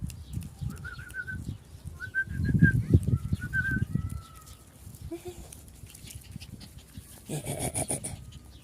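Small puppies at feeding time whine and whimper with soft squeaky cries, mixed with snuffling and shuffling noises close by, and brief bird-like chirps.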